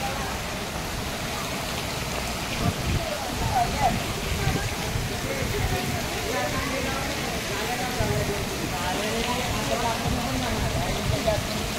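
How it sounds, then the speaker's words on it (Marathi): A small waterfall at Kanheri Caves in the rain gives a constant rushing wash of falling water that stays steady and moderately loud, with people talking over it. "बघा छोटा धबधबा मिनी, पाय लावून ये."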